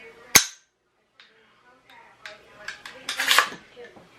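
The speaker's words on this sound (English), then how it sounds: "You're going to pull the charging handle. You're gonna have it set to fire. You're gonna pull the trigger." An AR-15's charging handle is pulled and the trigger dry-fired during range cleaning, a sharp loud metallic snap followed by a few quieter clicks and a cluster of rattling metal sounds close by.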